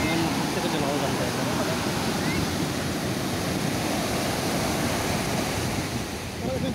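Ocean waves at Chennai's Marina Beach, a steady loud wash of surf mixed with wind buffeting the microphone, continuous and close throughout.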